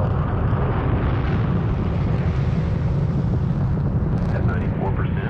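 A rocket launches after a countdown, a loud, sustained low rumbling roar that fills the whole stretch and stays dense and steady.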